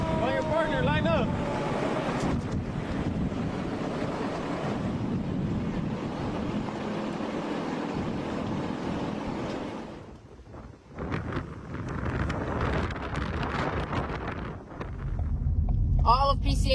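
Fierce wind roars during a California wildfire along the Pacific Coast Highway, where power lines and poles are down; loud, buffeting gusts batter the microphone, easing briefly before surging again, with voices heard intermittently.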